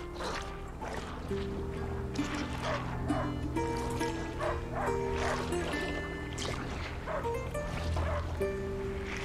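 Dogs bark repeatedly in short bursts amid a busy, echoing soundscape from the game A Plague Tale: Innocence, with tonal chimes and splashing, continuing throughout at moderate volume.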